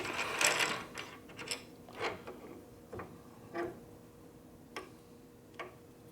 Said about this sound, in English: so we just undo this top bolt